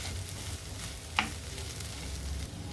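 Mashed potato masala is stirred in a pan, a soft steady scraping and faint sizzle with one sharp clink of the spoon partway through, quiet and close.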